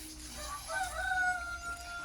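A rooster crows faintly in the distance against a steady background hiss.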